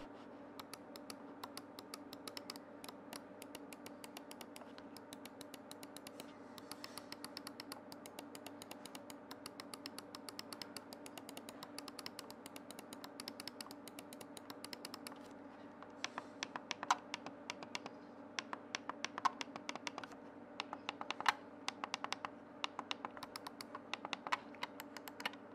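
Rapid, light clicks from the buttons of a Logitech G602 mouse patter on steadily, close and fairly quiet, growing sharper and more spaced out in the second half.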